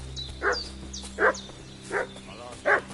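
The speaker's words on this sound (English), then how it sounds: "What's that dog making such a fuss about?" In the video game Kingdom Come: Deliverance, a dog barks four times at a steady, spaced rhythm, each bark short and moderately distant over a low ambient hum.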